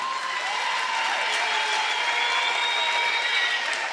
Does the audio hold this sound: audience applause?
yes